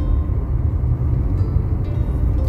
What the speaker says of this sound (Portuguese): Eu vou estacionar o carro